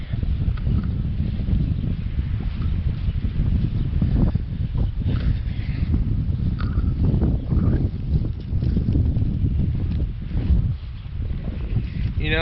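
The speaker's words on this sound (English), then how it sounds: "So it's really windy." Strong wind roars and buffets against the microphone throughout, loud and continuous, with gusts rising and falling.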